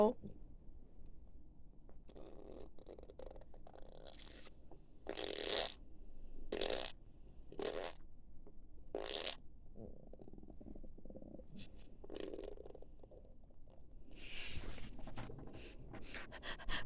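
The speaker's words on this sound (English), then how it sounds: "how do you think of my farting sound?" Fart sounds from a person with diarrhea, a run of short, loud, buzzing bursts close to the mic, several in quick succession, with speech and shuffling noise around them.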